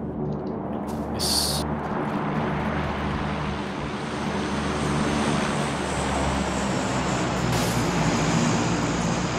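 Airplanes flying overhead in the battle royale game PUBG, a continuous broad engine drone holding steady across the whole stretch and loud throughout, with no talk over it.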